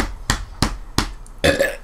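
A person lets out a series of four or five short, deep burps in quick succession, loud and close, the last one longer and more drawn out.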